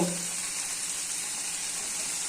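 Pieces of Katla fish hit hot oil in a pan, producing a loud, steady hiss of frying that fills the whole moment without pause.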